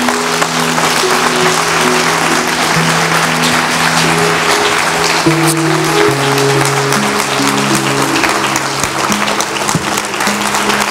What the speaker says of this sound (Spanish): ¿Cuánto le pueden dar un aplauso a Jesús en esta mañana?